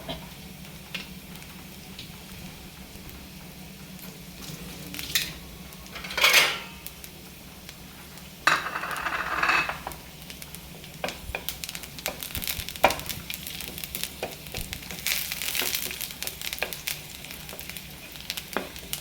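Fish for an oyster-sauce fish fry sizzles steadily in hot oil, a dense crackling hiss that runs throughout with a few louder bursts and faint clinks of a pan, close by and with no talking.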